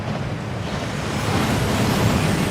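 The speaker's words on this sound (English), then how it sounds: "That waterfall washes away all enchantments." Rushing waterfall in the Gringotts vault in the video game Hogwarts Legacy, a steady broadband roar of falling water that swells slightly louder toward the end, with no voices over it.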